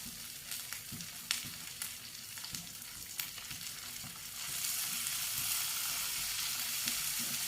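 Lemongrass stir-frying in cooking oil for Indonesian rawon, a steady close sizzle with scattered scraping stirs, swelling into a denser, louder hiss partway through.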